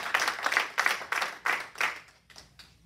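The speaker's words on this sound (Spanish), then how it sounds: "¿Cuánto le regala un aplauso a nuestro Señor Jesucristo?" A church congregation applauds during a sermon, dense clapping rising and falling in quick waves that thin out toward the end.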